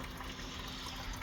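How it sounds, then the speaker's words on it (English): Water drains from the radiator tap of a Vauxhall Astra TS with a Z18XE engine, a steady close hiss and gush that runs continuously without a break. "Coolant out of the tap on the radiator, so we can get that out."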